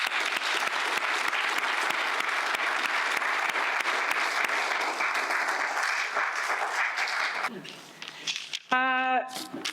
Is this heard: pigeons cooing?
no